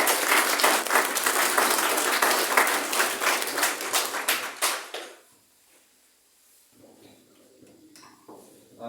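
Applause from a congregation during a Catholic mass honoring the Virgen del Carmen, dense clapping for about five seconds that then breaks off into near quiet, with faint murmuring and a little movement afterward.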